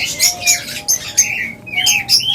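Lovebirds and cockatiels kept for sale chirp and tweet in loud, overlapping bursts, a busy flock chorus that rises and falls throughout.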